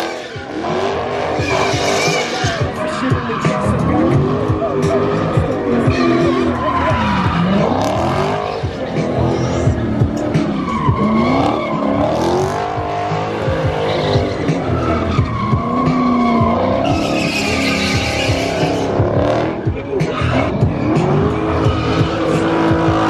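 Several cars drifting around a drift track in Los Angeles, with loud, continuous tire squeal and screeching skids rising and falling as engines roar nearby. Crowd voices and talk sit faintly underneath.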